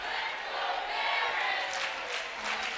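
A crowd chants at a junior hockey game between Mount Forest Patriots and Hanover Barons, a steady distant roar of voices filling the arena with a swell near the end.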